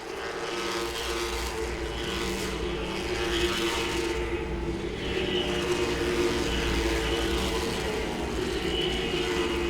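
Late model stock cars racing around Langley Speedway, a steady loud roar of several engines droning together with rising and falling revs as the pack passes, no talk.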